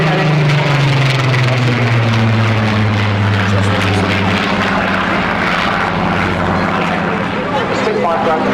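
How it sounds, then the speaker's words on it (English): P-51 Mustang piston-engine fighter flying at the Southport Air Show, a loud continuous propeller drone with a slowly falling pitch as it passes, under a commentator's voice. "here we go, that's P51 Mustang"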